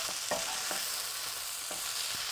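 Lamb liver and kidney for Persian jaghoor baghoor fry in a pan with a steady close sizzle, broken by a few faint spoon scrapes as the stew is stirred.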